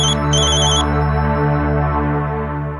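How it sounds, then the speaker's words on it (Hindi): A telephone rings steadily and loudly for a few seconds in a domestic scene from a Hindi television serial, its electronic tone sustained with a bright trill near the start. "पापा का फोन है।"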